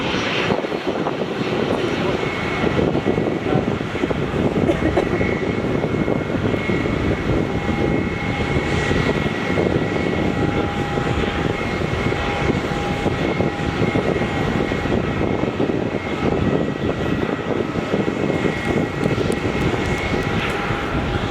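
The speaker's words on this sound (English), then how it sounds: "this JetStar A320 pushes back" A Jetstar Airbus A320 jet pushing back at Melbourne Airport, heard close up as a steady, loud engine roar and whine with a sustained tonal hum that holds throughout, with no talk over it.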